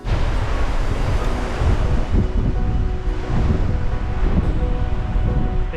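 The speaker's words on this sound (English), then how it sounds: "Be nice to be in out of this wind." Strong coastal wind on the Three Capes Track buffets the microphone in a continuous loud rumble, with a surf-like roar that surges and eases.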